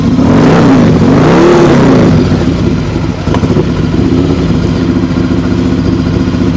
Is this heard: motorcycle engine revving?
yes